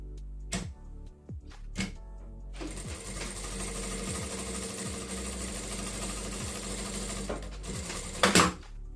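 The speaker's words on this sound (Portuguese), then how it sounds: "Vou costurar agora no tecido aqui de suede" A sewing machine stitches folded suede fabric. A few quick needle thumps open the clip, then a steady close mechanical whirr runs for several seconds before it slows and stops with a final rattle.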